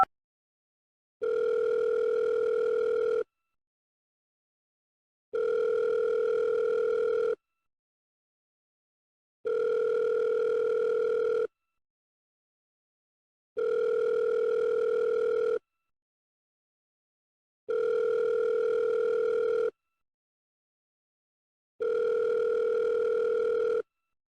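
A telephone ringing tone sounds while a phone call is being placed: six evenly spaced two-second electronic tones, each separated by silence, clear and alone.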